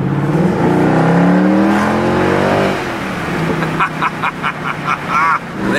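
Naturally aspirated Mercedes-AMG car driving and accelerating, its engine revving up in a loud close sweep before easing off, followed by a series of short sharp bursts from the engine.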